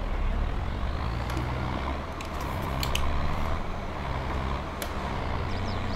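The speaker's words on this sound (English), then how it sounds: "Here's all the traffic." Steady roar of road traffic with heavy trucks rumbling past, a continuous dense wash of engine and tyre noise with faint high squeaks.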